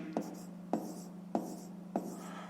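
Pen strokes on paper during a fifth-grade maths exercise, four short scratchy bursts at a steady rhythm, close and moderately loud over a faint steady hum.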